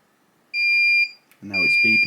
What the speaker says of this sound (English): now it's beeping to say a no bird's been detected and a unit's reset